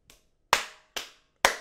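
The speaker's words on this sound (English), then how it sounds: "You get a round of applause from me" One person claps three slow, crisp, separate times close to the microphone, with silence between each clap.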